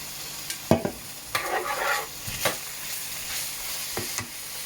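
Food sears in a hot pan with a steady close sizzle, broken by several sharp scraping stirs and clatters of a utensil against the metal.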